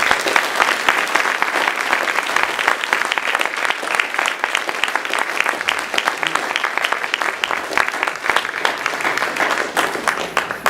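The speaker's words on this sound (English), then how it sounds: "let's give them a big applause" An audience at a conference closing session applauds three speakers, dense sustained clapping from a large crowd lasting about ten seconds.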